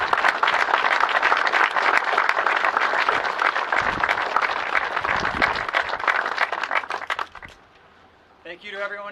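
Sustained audience applause at a Court of Honor induction ceremony, dense steady clapping from a crowd that fades out near the end before a voice begins.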